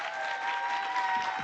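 Steady audience applause at an award presentation during Nairobi Arbitration Week, a dense, even wash of clapping with a faint tonal hum running underneath, lasting the whole short stretch.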